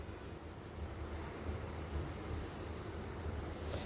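Water boiling in a pot while besan dough pieces for Rajasthani gatta dumplings cook, a steady broadband bubbling roar with no talk.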